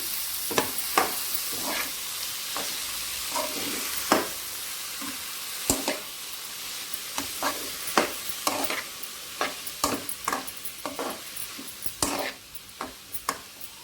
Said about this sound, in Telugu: క్యాప్సికమ్ యాడ్ చేస్తున్నాను అలాగే ఈక్వల్గా బఠానీ కూడా యాడ్ చేసుకోండి ఒకసారి మిక్స్ చేసుకోండి